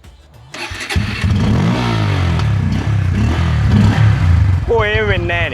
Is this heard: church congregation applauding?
no